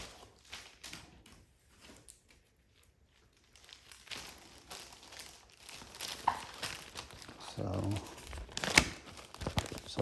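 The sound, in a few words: smoky plastic bag crinkling as bench parts are unwrapped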